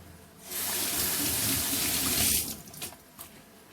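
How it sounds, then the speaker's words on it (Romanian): Tap water runs steadily and close over a bell pepper held under the stream to rinse out its seeds, a loud hissing gush for about two seconds before breaking into a few uneven splashes as the flow is cut. "acum iau și îl trec sub jetul de apă puțin să scot toate semințele dinăuntru"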